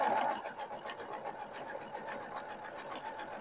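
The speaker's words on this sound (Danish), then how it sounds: "så vælger jeg altså at gøre det først her på symaskinen og bagefter på overlocker" A sewing machine runs steadily, stitching loosely woven fabric for a pocket bag on homemade men's shorts, with a close, even, rapid mechanical whir throughout.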